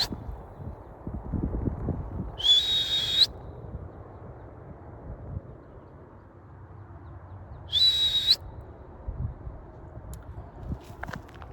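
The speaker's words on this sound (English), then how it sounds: "Three whistles, but here she comes." Two sharp, high whistle blasts, a few seconds apart, carry across an open outdoor space to call a dog, with quiet rustling and footsteps between them.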